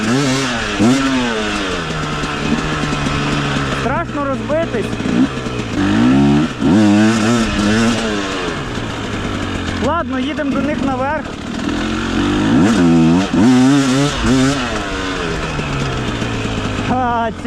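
A KOVI 300 Pro 2T two-stroke enduro motorcycle, a 56-horsepower bike, revs and bounces between high and low engine speeds in repeated bursts. The engine is loud and close throughout, and someone talks over it.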